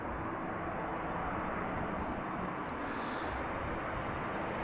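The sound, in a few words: Embraer 175 jet departing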